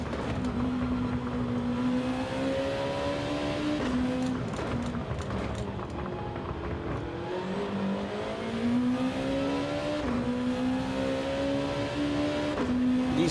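Mercedes race cars in the Gran Turismo 7 racing game drone steadily at high revs, with engine pitch climbing and dipping through gear changes for the whole stretch, a continuous close roar with no talk.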